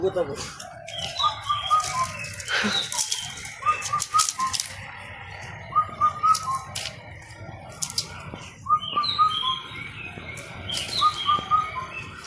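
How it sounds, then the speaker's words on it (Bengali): Repeated melodic calls of an Indian cuckoo ring out in a village outdoors, several phrases spaced a few seconds apart, with scattered other birds and faint voices. "এখন কি সুন্দর একটা পাখি ডাকতেছে বউ কথা কও"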